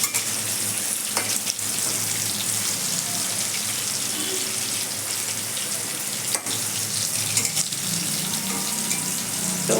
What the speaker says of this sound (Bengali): আলুটা ভালো করে ভাজা হচ্ছে